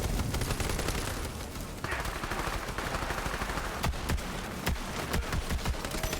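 Video game gunfire in Borderlands 3 rattles in rapid bursts of sharp shots, dense and loud, followed by a few spaced single cracks.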